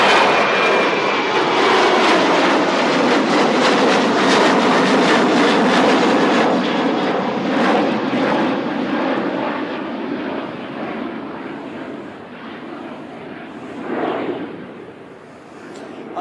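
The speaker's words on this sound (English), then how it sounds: "I swear Qantas leave here twice the speed of everybody else when they go by" A Qantas airliner takes off from Christchurch Airport with a loud, roaring jet engine rumble that builds and holds, then slowly fades as the plane climbs away, with a faint swell near the end and no voices.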